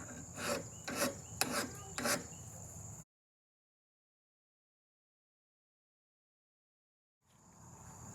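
Rhythmic rasping strokes of sandpaper on a metal hatchet head, four or five quick passes, then silence before a faint scraping resumes.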